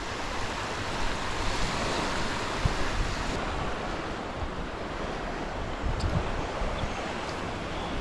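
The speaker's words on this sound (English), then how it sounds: "Some decent sized waves for a lake." Waves surge and break steadily on the sandy beach of a very large lake in Ontario, a continuous broadband wash of surf close by, with wind noise on the microphone and no talk.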